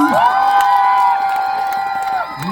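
A crowd at a singer's stage performance cheers with a sustained, rising whoop of many voices, loud and close, swelling then dropping away near the end.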